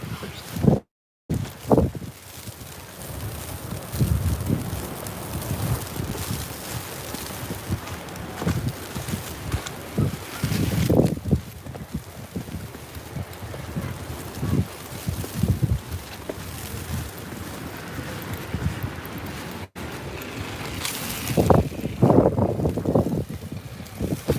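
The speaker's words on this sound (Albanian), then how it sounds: "Frynë shumë erë." Strong wind buffets the microphone in uneven, roaring gusts during snowfall in Elbasan, Albania, rising and falling throughout, with no voices.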